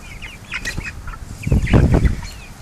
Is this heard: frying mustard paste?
no